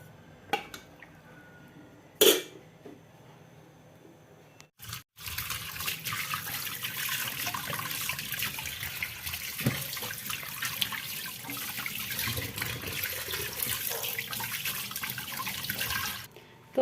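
Fish is washed and cleaned under a running kitchen tap, a few sharp knocks giving way to a steady, close rush of water in a sink that carries on alone to the end.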